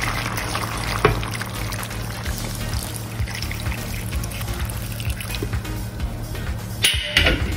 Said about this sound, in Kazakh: Кішкене 100 миллиграмдай су құямыз.